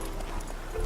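Roach, a horse in The Witcher 3, trots with a quick, steady clip-clop of hooves, close and clear over a low background bed.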